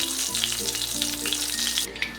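Chicken pakora pieces fry in hot oil with a close, steady sizzle and bubbling crackle, continuous and fairly loud, with faint clinks from a utensil near the end.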